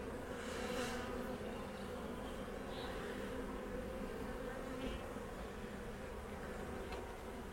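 Honeybees at a hive entrance bringing in pollen make a steady, dense buzzing drone that runs close and continuous throughout, with no talk.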